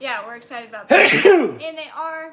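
A single sharp sneeze bursts out in the middle of casual conversation, loud and close, with people talking before and after it.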